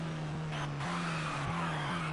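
Engine drone of a touring car in TOCA 2 Touring Cars, holding steady then dropping in pitch in short steps as it brakes, with faint tire noise, no voices.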